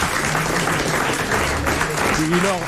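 Studio audience applause on a French TV game show, a steady wash of clapping throughout, with a presenter's voice running over it toward the end.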